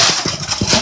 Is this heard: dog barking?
yes